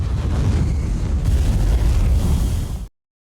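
A loud, sustained explosion rumble as a radar missile strikes an F-14 jet in a flight simulator game, a dense low roar lasting nearly three seconds before cutting off abruptly to silence.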